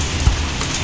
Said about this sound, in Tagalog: inabutan na tayo ng ulan